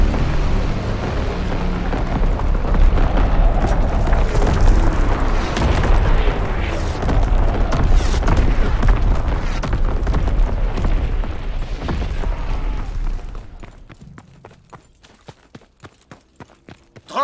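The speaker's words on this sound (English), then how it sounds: "Firing battery one. Target position confirmed." An artillery battery strike in a Call of Duty match rumbles as a long run of heavy, overlapping explosions, loud and sustained for about thirteen seconds before fading into sparse distant thumps.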